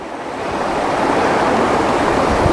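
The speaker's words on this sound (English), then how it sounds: "I bet it's a beautiful stream." A flowing stream in Michaux State Forest, swollen after heavy rain, gives a close, loud, continuous rush of water that swells slightly and then holds steady, with no talking.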